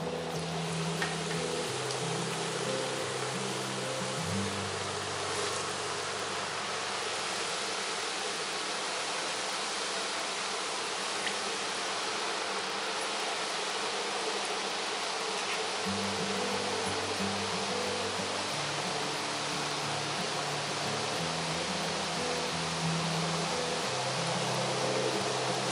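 Chakli made from bhajani flour dough fries in hot oil over low heat, giving a steady soft hiss and fizz of bubbling oil that runs continuously at low level, with faint low kitchen hum shifting underneath.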